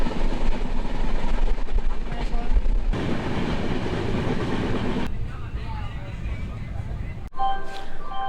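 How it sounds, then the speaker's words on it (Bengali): A passenger train travels toward Kanyakumari in Tamil Nadu, its steady rumbling roar and clattering wheels loud and close throughout, with the sound shifting abruptly partway through. "কন্যাকুমারী যাওয়ার ট্রেনটা চলে যাচ্ছে এই মুহূর্তে।"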